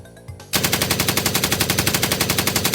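Sustained machine-gun fire bursts in suddenly after a brief quiet moment, loud and close, with rapid, evenly spaced shots repeating steadily to the end.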